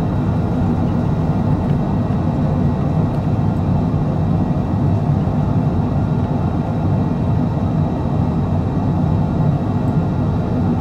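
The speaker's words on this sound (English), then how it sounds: "Reverse thruster." An airliner applying reverse thrust on landing in Microsoft Flight Simulator: a steady, dense engine roar and rumble that holds loud and unbroken throughout, with no voices.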